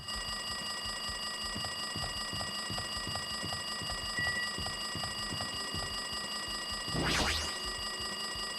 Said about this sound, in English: It's the alarm clock in the lobby